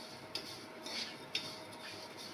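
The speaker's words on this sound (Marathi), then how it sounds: "आता मी एका प्लेट मध्ये काढून घेते." Golden-brown fried vermicelli scraped and lifted out of a pan onto a plate, giving a few light metallic clinks and scrapes of a spoon against cookware over a soft steady background hiss, fairly quiet and close.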